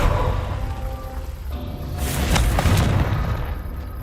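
Confringo blasting spell detonating in Hogwarts Legacy, a deep booming explosion that swells around the middle with a burst of crackling debris, over a steady low rumble of background game ambience.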